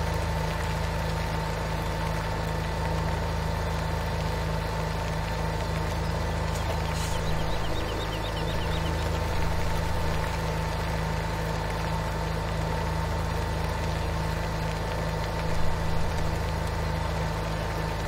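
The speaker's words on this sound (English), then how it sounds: "This tractor should do more than 32 miles an hour" Tractor engine in Farming Simulator 17 runs at a steady idle-like drone, a constant low hum with a faint mechanical whine, unbroken and evenly loud throughout with no talk over it.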